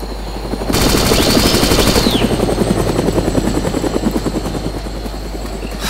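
Helicopter in the video game DayZ, a loud close rotor chopping in a steady rapid beat that swells in and holds, with no talk over it.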